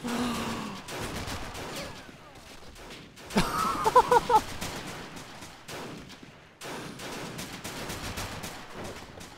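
Men of War gameplay pitting Japanese forces against US Marines, with bursts of gunfire and rapid shots in a cluster near the middle, amid ongoing battle noise and brief gaps of quiet.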